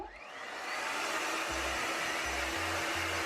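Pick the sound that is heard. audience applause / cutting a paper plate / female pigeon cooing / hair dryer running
hair dryer running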